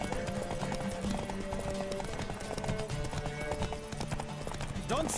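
Rapid, loud hoofbeats of a racing horse in The Witcher 3 roll on without a break over a musical backdrop, with a brief vocal sound at the very end.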